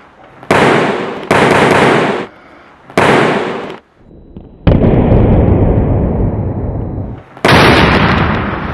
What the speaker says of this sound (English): When he actually makes contact, it causes a small explosion.